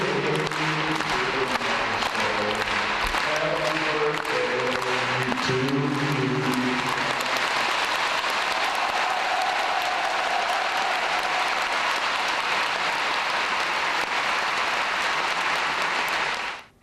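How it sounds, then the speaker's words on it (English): An audience claps after Happy Birthday is sung to Kim Jong Un in North Korea: loud, dense applause first blends with a sustained sung or musical tone, then continues alone and fades abruptly at the end. "That's how you clap."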